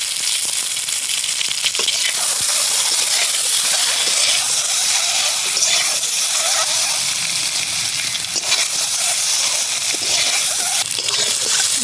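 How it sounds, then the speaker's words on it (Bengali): Eggs fry in oil in a kadai in a village kitchen, giving a loud, continuous sizzle with bubbling and crackling throughout and occasional louder spatters, without speech. "ডিম ভাজা হয়ে গেছে, আবার নামাই দেবো।"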